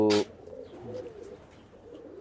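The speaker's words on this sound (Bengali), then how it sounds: "এখানে সব উড়ানোর কবুতর উড়ার কবুতর এবং কিছু ব্রিডার কবুতরও আছে" Imported flying and breeder pigeons in a loft give a short burst of sound followed by soft, low cooing that carries faintly over a quiet background.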